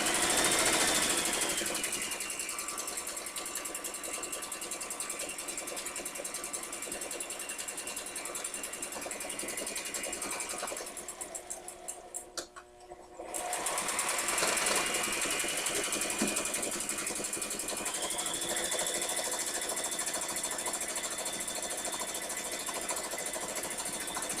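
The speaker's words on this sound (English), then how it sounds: "And you just sew across that line and flip it inside out." A sewing machine runs steadily across a seam on a small Build-a-Bear doll dress, a close, continuous rapid mechanical whir that stops briefly midway, then resumes at an even pace.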